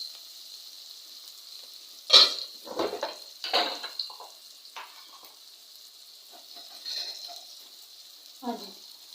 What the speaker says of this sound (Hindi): टमाटर के पानी से अब ये थोड़ा सा मसाला भूनना है।